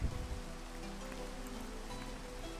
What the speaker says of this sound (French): Oh, j'en ai marre de la pluie.